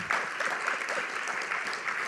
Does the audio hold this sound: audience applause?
yes